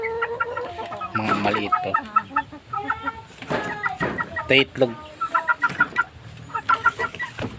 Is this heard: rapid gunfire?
no